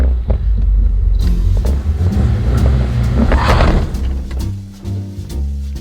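Four-cylinder manual Chevy S10 pickup launching off a clutch dump, a loud close engine rumble that surges and strains, then drops away, with low throbbing exhaust and no talking.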